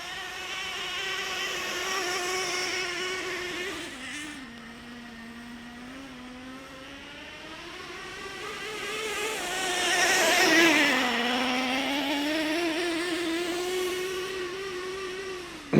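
A Traxxas Revo 3.3 nitro RC truck runs laps outdoors in cool weather, its small engine giving a steady, buzzing whine that rises and falls in pitch as it speeds up and slows, swelling loudest midway, with no talking.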